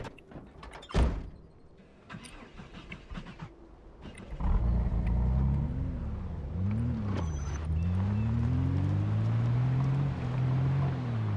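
A car in Project Zomboid thumps shut, then its engine starts and revs, rising and falling through gears as it drives off, loud and steady.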